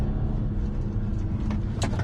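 A BMW M240i on Dinan springs accelerates through a tight corner, its engine giving a steady low rumble inside the cabin with a few faint higher clicks near the end. No one speaks.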